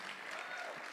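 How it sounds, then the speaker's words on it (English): A short burst of concert audience applause, many hands clapping in a dense, even patter for about a second. "Yes, give him a round of applause."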